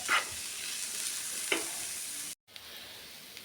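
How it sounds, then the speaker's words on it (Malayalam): Coconut, curry leaves, shallots and fenugreek dry-roasting in a pan for fish curry, a steady soft sizzle with a couple of scraping stir strokes, a brief break near the end, no talk. "ഒരു മുറി തേങ്ങ ഒരു രണ്ട് തണ്ട് കറിവേപ്പില ഒരു അഞ്ച് ചെറിയ ഉള്ളി ഒരു സ്പൂൺ ഉലുവ ഇത്രയും കൂടെ ഇട്ട് നമുക്കൊന്ന് വറുത്തെടുക്കാം"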